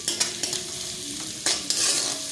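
Ginger sautéing in hot cooking oil, a continuous sizzle with several sharp stirring clacks of a utensil against the pan, close and fairly loud.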